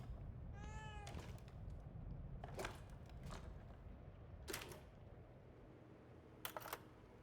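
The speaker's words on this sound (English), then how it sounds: "I want to pet the cat." A cat meows with a rising, harmonic cry early on, amid the eerie ambience and sharp clicks of the survival horror game The Evil Within 2, heard alone without talk.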